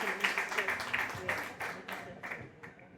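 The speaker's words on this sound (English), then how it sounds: "Clap, guys." People at a women-in-leadership dialogue event clap briefly. The scattered, moderate applause fades over a few seconds, with voices heard underneath.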